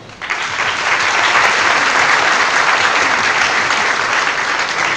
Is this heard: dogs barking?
no